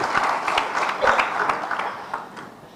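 Brief burst of audience applause at a government announcement on free cancer treatment in Karachi, moderately loud and scattered, fading over a few seconds.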